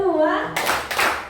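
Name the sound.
rhythmic hand clapping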